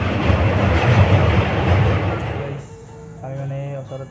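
A train passes close by on a railway, a loud, rolling rumble with clattering wheels that fades after a couple of seconds. Voices of people talking can be heard as the noise dies away.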